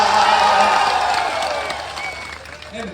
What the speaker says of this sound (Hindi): ताली अगली लाइन पे बजानी, एडवांस पेमेंट बजाएंगे